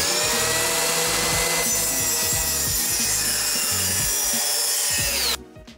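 Plywood panels are cut or worked with a tool, giving a steady, loud, close rasping grind with rhythmic low strokes underneath that stops abruptly near the end.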